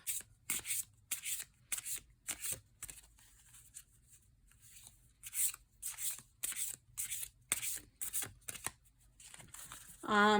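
An oracle card deck shuffled by hand from the side, giving a close, crisp series of papery riffling bursts in an uneven rhythm, ending in a louder rustle.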